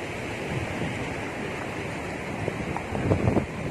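At Bhadbhada waterfall near Jabalpur, water rushes as a steady broad wash, mixed with wind buffeting the microphone and growing a little louder near the end.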